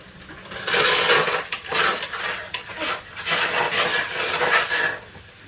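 Ingredients being dry fried in a pot with no oil or butter, rattling and scraping against the metal as they are stirred, with repeated loud clanks and shuffles over several seconds.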